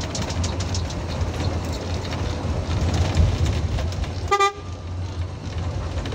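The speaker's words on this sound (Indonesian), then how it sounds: "Kasih klakson dulu." A bus horn gives a short, loud honk after several seconds of steady engine rumble and road noise.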